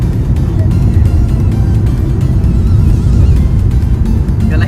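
A car drives through rain, making a loud, continuous low road-and-engine rumble with a washing hiss on top, and voices are faintly audible inside.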